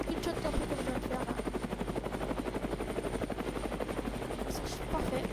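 Video game helicopter coming in to land, its rotor chopping steadily and loud throughout, a continuous rhythmic thump with engine whine underneath.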